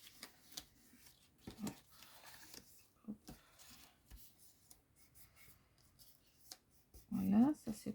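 Paper being creased along the folds of a hexagonal box, a series of short soft rubs and scrapes with a louder final press, close by under brief French speech.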